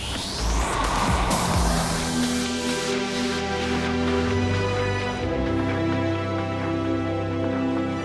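A BMW 7 Series pulls away under launch control, its engine droning loud and steady with a rising, layered tone that holds for the whole stretch, with no voices.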